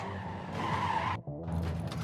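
A truck crashes in the video game Clustertruck: loud continuous engine and scraping roar, broken by a brief dropout near the middle before another rough, skidding burst resumes with no talking.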